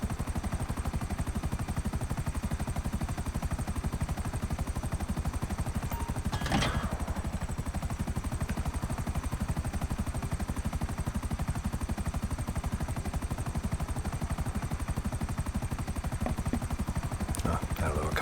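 Continuous low, pulsing rotor drone of a helicopter flying in the video game GTA 5 Online, steady and fairly quiet throughout with a couple of brief sharp transients.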